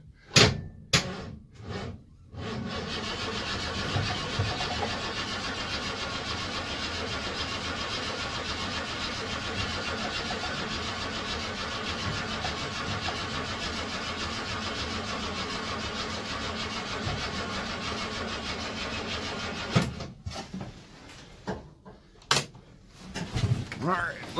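A j35 engine is cranked after the ignition is switched on, its starter turning over in a long, steady, loud drone, with a few short clicks and knocks before and after.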